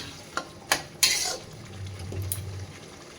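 Katla fish masala sautéing in a pan, a few sharp spatula scrapes and clinks against metal at the start, then a softer sizzle and stirring, close and fairly quiet with no talk.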